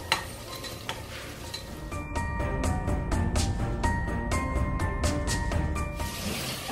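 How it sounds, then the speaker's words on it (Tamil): Tomatoes sautéing in a pan for biryani, a steady close sizzle with a brisk run of metal spoon scrapes and clinks against the pan, growing busier midway, no voices. "அதுவும் போட்டு கொஞ்சம் நல்லா வதக்கணும்."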